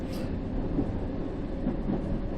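A London Underground train in a driving simulator near Tower Hill rumbles steadily and low, an even mechanical drone with no voices over it.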